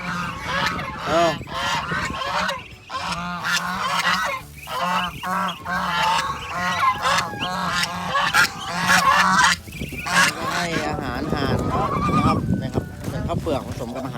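A flock of nine geese on a farm honk loudly and almost continuously outside, their overlapping calls crowding together with brief dips between bursts, all close and prominent.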